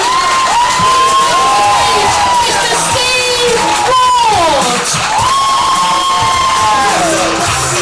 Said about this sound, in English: give it a good clap